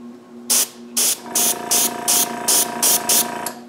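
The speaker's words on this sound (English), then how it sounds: "I also spray red cheeks" Short bursts of spray paint laying red cheeks onto wooden nutcrackers, about eight evenly spaced hisses, close and loud over a steady low hum.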